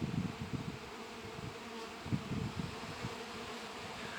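Honeybees buzz steadily around the comb in a hive being set up with an empty comb, a feeder and 1:1 syrup, a close, continuous low drone that swells and fades with passing insects.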